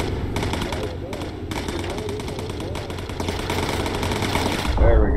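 Rapid machine gun fire from a bomber crew's turrets in the Bomber Crew video game, a dense rattling burst running steadily through the whole stretch under voices, growing louder near the end.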